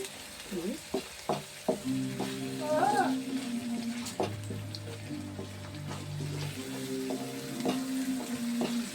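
Amaranth leaf curry sizzles and fries in a pan while a spoon stirs it, with a steady crackle and occasional scraping clinks close by, and some voice in the background.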